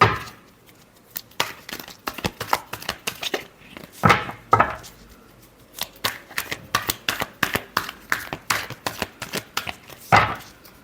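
Tarot cards shuffled in a series of quick crisp riffles and slaps, close and fairly loud, with short pauses between bursts and no talking.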